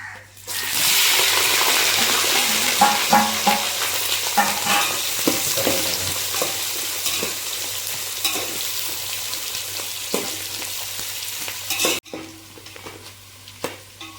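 Onions and green chillies frying in oil in a pan, a loud hissing sizzle that fills the space with scattered stirring clicks and scrapes, close up, easing off toward the end.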